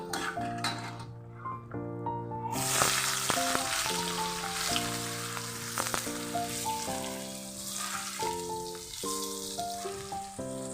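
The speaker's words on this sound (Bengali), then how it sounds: "তেজপাতার সাথে আমি গোটা গরম মশলাও দিয়ে দিয়েছি আর কেটে রাখা যে পেঁয়াজ কুচোটা রয়েছে সেটাও আমি দিয়ে দেবো" Chopped onion hits hot oil with bay leaf and whole spices, giving a steady broadband sizzle that runs under loud, continuous melodic background music for most of the clip.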